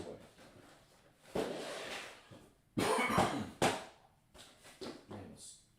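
A man coughs repeatedly at close range in a quiet room, several harsh, separate bursts spread across a few seconds, with short pauses between them.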